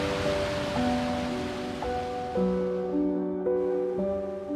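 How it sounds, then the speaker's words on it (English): A steady, full rush of pummeling water in Watendlath Valley in the Lake District, loud and constant throughout, with a few sustained tones drifting over it. "You can hear that? Clearly some pummeling water."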